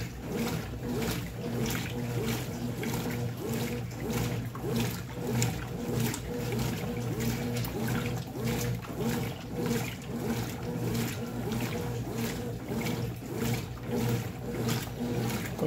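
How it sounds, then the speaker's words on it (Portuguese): A Brastemp 12 kg washing machine agitates on the white cycle with a steady churning, sloshing rhythm of water and clothes, constant and moderately near. "A agitação do ciclo brancas é legal."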